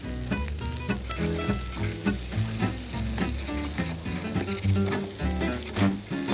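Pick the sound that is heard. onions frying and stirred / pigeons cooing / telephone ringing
onions frying and stirred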